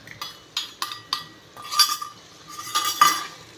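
A spoon clinks against a metal pan as roasted dry fruits go into lauki (bottle gourd) halwa, a run of sharp metallic taps and scrapes, close and fairly loud, with no talk.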